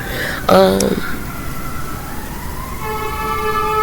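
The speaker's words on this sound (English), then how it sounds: "I've been listening to these sirens since yesterday" A siren wails in the distance, its rising and falling tone drawn out over a steady background hum, with a brief louder burst near the start.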